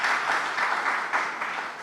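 An audience at a political gathering in Delhi applauds steadily, a dense wash of clapping that holds at an even level throughout without any voices.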